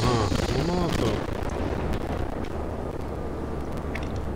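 Naval guns boom in the warship game World of Warships, giving a deep, rolling rumble that fades out over several seconds. A voice is heard briefly at the start.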